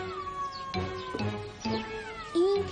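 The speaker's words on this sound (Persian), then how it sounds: "این پیشی گربه همسایه‌مونه." A neighbour's cat meows several times in close succession, with clear, drawn-out, pitch-bending cries, the last one rising and loudest.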